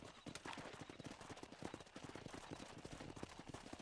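Horse hooves clip-clop in a quick, steady rhythm in a Red Dead Redemption scene, moderately close and with no speech over them.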